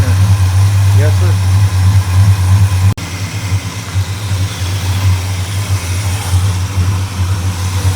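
A carbureted squarebody truck engine idles steadily while warming up, a loud, close, low rumble throughout with a brief cut, as someone talks over it.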